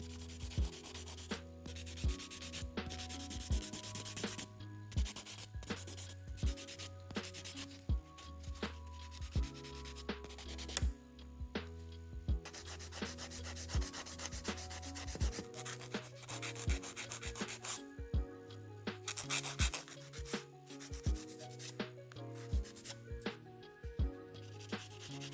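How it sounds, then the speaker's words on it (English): A handheld nail buffer rubs back and forth across press-on nail tips to take the shine off, a close, quiet, steady scratchy scrubbing in rapid repeated strokes with no talk. "I'm taking my buffer and buffing off all of the shine from the nail tips"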